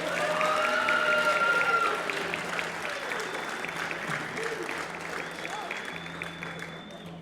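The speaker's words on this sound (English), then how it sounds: "So can they get a little bit more applause," Applause from the audience at a jazz night, loud at first, then easing into softer, thinning clapping with some crowd murmur and faint chatter underneath.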